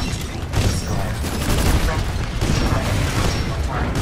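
Rapid gunfire in Titanfall 2, a dense, unbroken roar of shots and explosions filling the whole stretch at high loudness, with talk from players over it.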